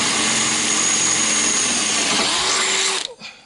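A drill bores an 8.5 mm hole with a steady, loud, close whine that holds for about three seconds, then cuts off and spins down.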